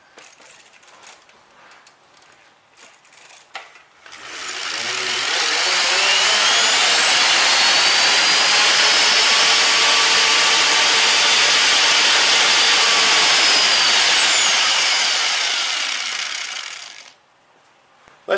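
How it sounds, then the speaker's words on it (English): A Harbor Freight angle grinder rated 120 volts at 5 amps, powered by a homemade pedal bike generator, spins up into a loud, steady whine for about thirteen seconds before winding down and stopping. "we're going to try the angle grinder. This one is a Harbor Freight special"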